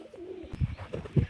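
A pigeon coos up close in soft low throaty pulses, a brief burst of rounded warbling notes with no talking.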